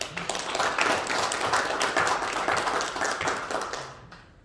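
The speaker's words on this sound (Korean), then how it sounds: "우리 마지막으로 이사분들한테 박수 한번 이렇게 부탁을 드리겠습니다" An audience claps for association directors at the inauguration ceremony of the Korea Jokgu Association president. The dense, steady applause fills the room for a few seconds, then fades out.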